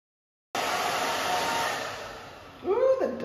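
A hair dryer blows steadily on a bob haircut. Its loud, constant whir starts abruptly and stays close, then dips and shifts in pitch near the end as it is moved around.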